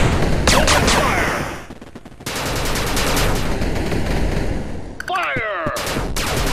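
Rapid bursts of retro video game gunfire from 8-Bit Armies, loud and dense, with short pauses between volleys and a few chirpy electronic effects toward the end.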